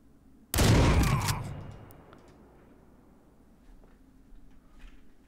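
Gunfire in a video game: one loud, sharp burst at the start, with a second report close behind it, then a long decaying tail fading into quiet background noise.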